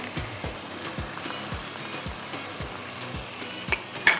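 Whole black peppercorns, ginger and garlic frying in a pan, a soft steady sizzle under regular rhythmic clicks of a utensil, with a couple of sharper scrapes at the close.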